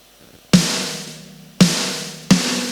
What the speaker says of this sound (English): we have the snare, which sounds like this.